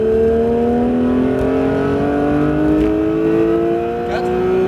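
Porsche 911 GT3 accelerating hard on the Mireval race circuit, its engine note climbing steadily through the revs, loud and close from inside the car, with a brief higher whine near the end.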